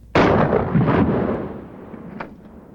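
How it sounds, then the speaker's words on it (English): A shotgun flechette round fired into ballistic gel: one sharp, loud blast that rolls off into a decaying rumble, followed by a faint thud or crack about two seconds later, with no talking. "Here is what happens when a Flechette hits it."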